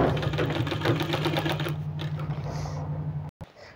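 A sewing machine stitches a sleeve seam with a steady, close mechanical whir and rapid ticking, then slows and stops near the end.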